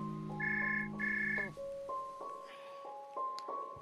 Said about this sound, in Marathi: सकाळ सकाळ देशपांडे सरांचा फोन.